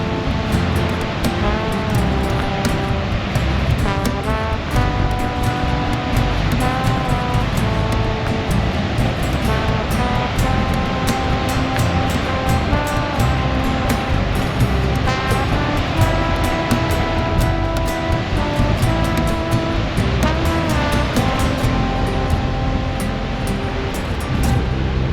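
A steady, continuous roar of rushing water, loud and unchanging throughout, with no voices.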